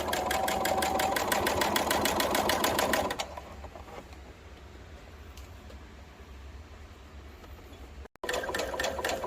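A sewing machine stitches the armhole of a dress sleeve, running in a fast, loud, rhythmic hammering burst for about three seconds. It then falls quiet and starts again briefly near the end.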